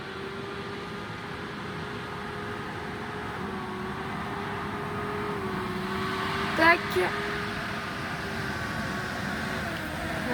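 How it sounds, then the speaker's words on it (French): A tractor passes near a riverbank fishing spot as a steady, low engine drone that stays fairly constant throughout, with a brief voice and a faint click partway through. "Il y a un tracteur qui passe."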